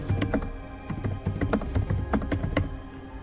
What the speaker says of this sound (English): now again I am typing a SMS here.